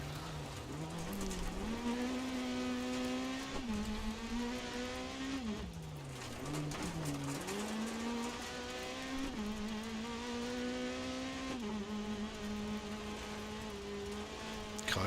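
A rally car in DiRT Rally races through a New Zealand stage, its engine droning loudly and steadily with pitch dips and climbs as it shifts and revs, near and continuous.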